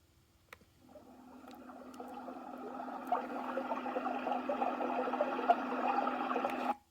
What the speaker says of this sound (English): which aquarium audio sounds like this.